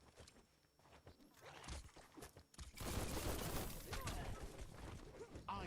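Gunfire from the video game Biomutant comes as quiet, rapid bursts that build into a denser volley in the second half, with a voice talking over it.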